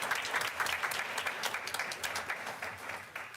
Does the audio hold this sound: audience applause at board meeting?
yes